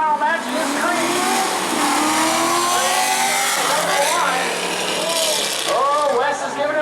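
Race cars accelerating on a speedway during a semifinal spectator race, several engines revving loudly and continuously together, rising and falling as they pass, with a commentator talking over them.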